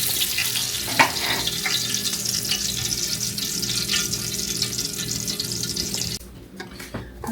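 Green tomato slices frying in hot oil give a steady, close sizzle with a few small pops, then the sizzle drops away sharply near the end, leaving quieter background.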